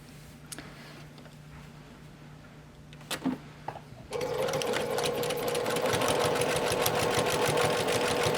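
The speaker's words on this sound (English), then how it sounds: "We're going to sew down this side and down this side with a 1/4 inch seam allowance." A sewing machine stitches a 1/4 inch seam on a fabric face mask keychain case. After a few quiet handling clicks it starts up and runs in a loud, steady, close whirr to the end.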